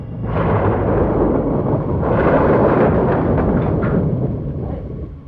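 Thunder from a storm, a loud, close, continuous rolling rumble lasting several seconds that swells midway and slowly fades, heard alone.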